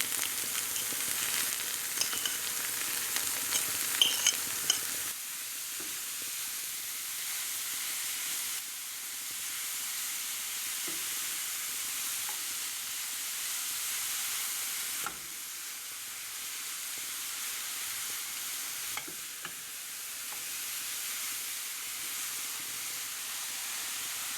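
Cauliflower frying with pepper paste in a pan makes a long, steady, bright hiss of sizzling oil with a few scattered clicks and soft stir sounds early on, continuous and unaccompanied by speech.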